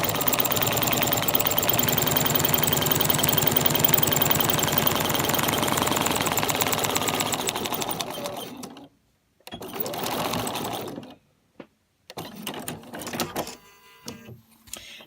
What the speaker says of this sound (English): we'll sew along that line, making sure to do those reverse stitches beginning and end